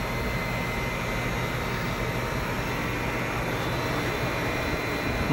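A DIY air conditioner driven by a VFD runs on solar power, giving a steady, broadband whooshing hum of fan and compressor that holds constant from start to finish with no voices.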